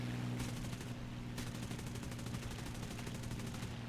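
Machine gun fire in the War Thunder video game, a continuous rapid rattle of shots that stays steady and dense throughout.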